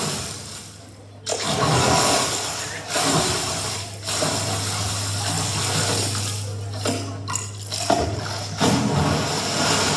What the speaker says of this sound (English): Water sound, please.